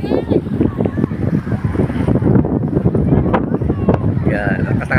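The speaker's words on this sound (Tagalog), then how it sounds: "lakas ng hangin dito" Strong wind buffets the microphone at Patungan Beach in Cavite, a loud, continuous rumbling roar with gusty surges, close and overpowering, with faint voices underneath.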